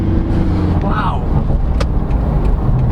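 A 2017 Isuzu MU-X 3.0 LS-A SUV with an automatic gearbox and a 163-horsepower engine accelerates. A steady engine drone sits close beneath constant cabin chatter.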